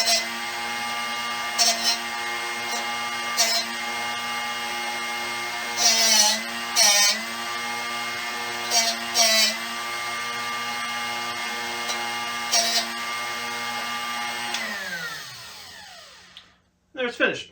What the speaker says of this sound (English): just rotate it until you stop hearing it grind. And that means that it's finished being sharpened